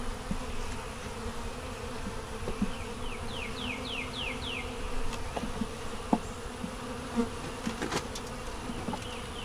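Honey bees buzz steadily at an open hive during an inspection of brood frames, a soft continuous hum with faint scattered clicks and handling knocks.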